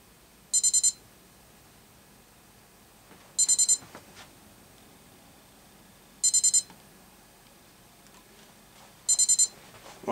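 A Sony Dream Machine ICF-C717PJ alarm clock sounds its buzzer alarm at full volume: four short, bright bursts of rapid beeps, evenly spaced about three seconds apart, over quiet room hiss.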